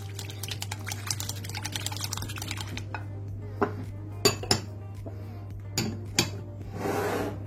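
Ingredients for Algerian Halwat Tabaa cookie dough are stirred in a bowl with a utensil, first as a rapid, continuous scraping and clinking, then slowing to a few separate sharp knocks against the bowl.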